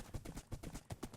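Horse hooves clip-clopping in Minecraft, a steady series of soft, close thuds at an even trotting rhythm, alone without talk.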